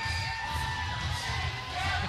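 A professional wrestling crowd murmuring and shouting, a dense steady roar filling the arena with scattered whoops and mixed reactions of displeasure.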